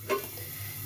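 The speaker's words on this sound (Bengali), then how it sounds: "আর ততক্ষণ উচ্ছেটা বরং ভাজা হোক" Bitter gourd fries in a covered pan, giving a faint, steady sizzle over a low hum, with a brief louder crackle near the start and no voices.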